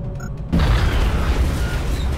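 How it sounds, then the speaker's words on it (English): A quiet moment breaks into a heavy, close alien grenade blast in XCOM Enemy Within, a loud boom followed by a rumbling, crackling decay that fills the rest of the moment. "Toss the alien grenade."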